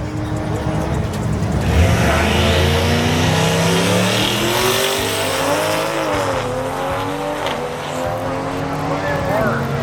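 Powerful drag race cars roar and climb in pitch as they accelerate hard down an eighth-mile strip, with a voice talking excitedly over the loud, sustained revving.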